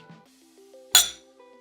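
Two glasses of bourbon clink once in a toast, a single bright, sharp chink that rings briefly and fades within a quiet room.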